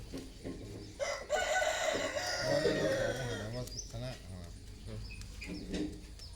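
A rooster crows loudly in a long drawn-out call, followed by softer clucking, with people talking in the background.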